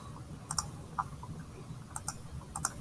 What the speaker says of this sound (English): I go back to my calculator, and I'm going to type in 15 divided by 2.